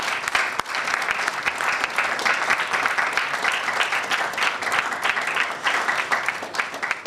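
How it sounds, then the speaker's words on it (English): Loud, sustained audience applause welcoming a Member of Parliament to the high table at the NSMQ2021 championship launch, dense and even clapping from start to finish. "With a round of applause, let's welcome up to the high table"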